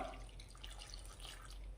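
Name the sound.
water poured into pot of curry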